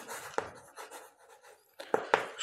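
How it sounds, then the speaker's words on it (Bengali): Chalk or marker scratches out an answer on a board in a classroom with short, close, scratchy strokes broken by brief pauses and a few sharper taps, and nobody speaks. "তাহলে লিখব শনিবার"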